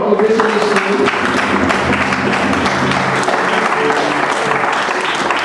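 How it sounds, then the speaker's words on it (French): A church congregation applauds loudly and steadily, sustained clapping filling the space with voices mixed in throughout. "Et là, nous acclamons le Seigneur."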